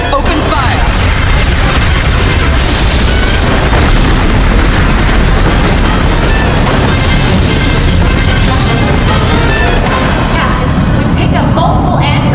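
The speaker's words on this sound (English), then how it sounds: "All ships open fire." Spaceships open fire in an animated space battle, a loud, dense barrage of booming blasts and bursting explosions rolling on continuously with no pause.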